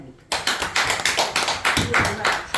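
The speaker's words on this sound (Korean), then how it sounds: "우리 박수 영광 하나님" A church congregation breaks into brisk, rhythmic clapping that starts abruptly and continues steadily, near and fairly loud, with voices mixed in.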